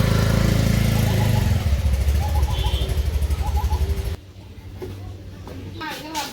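A motorcycle engine runs loud and close, a steady throbbing idle that drops back and quiets partway through, with people talking over it in a village setting.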